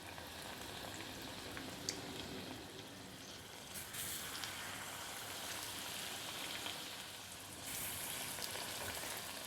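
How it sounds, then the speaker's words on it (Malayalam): Battered green chillies for mulaku bajji sizzle in hot oil over a medium flame, a steady, dense crackling hiss that runs throughout and swells slightly in loudness near the end. "ഇനി നമുക്ക് ചൂടായ എണ്ണയിലേക്ക് ഇട്ട് കൊടുക്കാം"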